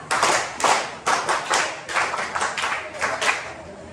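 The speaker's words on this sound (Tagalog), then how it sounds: "ibigay natin ang pangkat tatlo ng 11 palakpak" A classroom group claps in unison for group three, delivering a run of distinct, evenly spaced loud claps in a steady counted rhythm with no talking.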